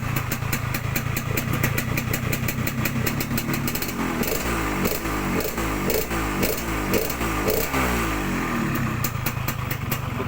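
Yamaha RX-King two-stroke motorcycle fitted with a rebuilt exhaust muffler baffle, running steadily up close with a crisp, raspy idle that settles into a rhythmic pulsing burble partway through, loud and without talk.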